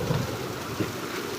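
Heavy rain pours down in a dense, steady roar, loud and close, with no voices over it.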